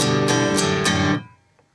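Acoustic guitar strummed slowly in the pattern from a song: four ringing chord strums in an even rhythm, close and clear, then a quick decay into silence.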